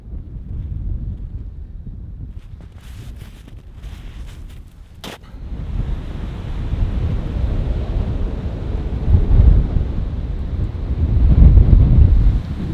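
Strong wind gusts buffet the microphone in snowy mountains, giving a deep roar that swells and fades. After some brief scraping rustles, the gusts build up louder toward the end.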